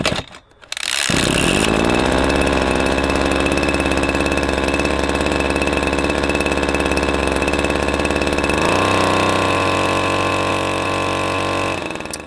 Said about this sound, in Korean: 조립해서 한번 시동 걸어보도록 하겠습니다.